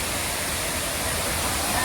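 Water rushes in a dense, continuous roar at the Gavli Dev waterfall, heard close and steady throughout the short stretch with no voices.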